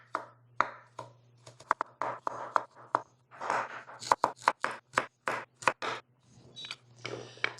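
Salad ingredients being chopped on a board, knife strikes coming in irregular bursts, sometimes one at a time and sometimes in quick runs, sharp and close, with a steady low hum underneath.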